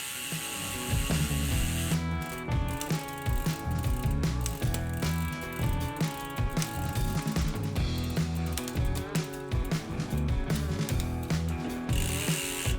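A mountain bike's rear derailleur ticks and ratchets through gear shifts while being adjusted, with rapid clicking and whirring chain noise in a busy, continuous mechanical run lasting over ten seconds.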